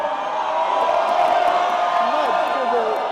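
A wrestling crowd at a live pro wrestling show cheers and whoops steadily as a wrestler is set up on the top rope, a continuous roar with a commentator talking over it.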